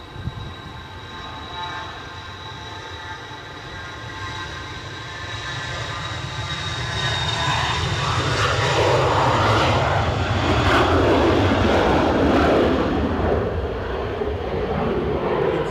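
A jet at Edinburgh Airport in 40 mph winds gives a high, tinny engine whine with steady tonal pitches, then the roar swells louder as it powers up, no voices.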